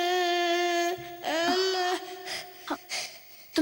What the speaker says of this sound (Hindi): तुम्हें किसी बच्चे के रोने की आवाज सुनाई दे रही